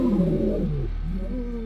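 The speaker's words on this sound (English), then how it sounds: "They were loud, they roared." Wild lions let out a deep, loud roar close by, a single long rumbling call that drops in pitch and then rises again briefly.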